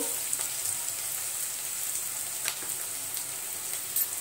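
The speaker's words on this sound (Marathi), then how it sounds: "कांद्यामध्येच मीठ टाकायचं म्हणजे कांदा लवकर परतला जातो" Onions sautéing with salt in a pan for matki usal, a continuous bright sizzle close up with faint scraping, no voices.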